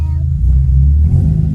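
A BMW E30's engine running up close, a loud, steady low rumble with a slight swell in the middle and no break, heard alone without talk.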